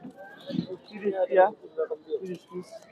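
Pigeons coo softly and repeatedly close by at a pigeon market in Fatullah, Narayanganj, mixed with a speaking voice, the murmuring calls overlapping in an uneven rhythm.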